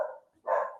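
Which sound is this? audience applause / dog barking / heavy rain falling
dog barking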